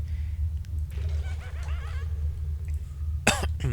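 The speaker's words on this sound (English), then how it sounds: "Had to cough there." A man coughs once, sharp and close, near the end, after a stretch of low-level background hum and faint vocal noises.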